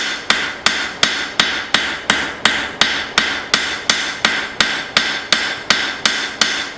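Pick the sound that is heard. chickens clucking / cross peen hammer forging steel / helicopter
cross peen hammer forging steel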